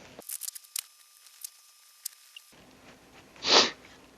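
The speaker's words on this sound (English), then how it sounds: "I'm going to take and cut that pattern out" Cutting out a paper pattern for an epoxy river bed coaster: a few sharp scissor snips and rustles close by, scattered over quiet gaps, followed by a louder breathy whoosh near the end.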